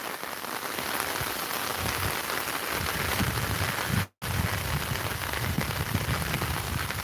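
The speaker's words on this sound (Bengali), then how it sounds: "প্রচুর বৃষ্টি হচ্ছে, বৃষ্টির কারণে আসলে সব এলোমেলো হয়ে যাচ্ছে সিলেটের।" Heavy rain pours down in Sylhet, a loud, dense, unbroken hiss of water drumming on surfaces close by, with no voices.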